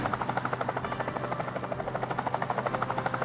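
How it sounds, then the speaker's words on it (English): A helicopter in the military video game One Military Camp gives off a steady, rapid rotor chop: even rhythmic pulses over a low engine drone, moderately loud, with no talk. "I like how the helicopter goes underground."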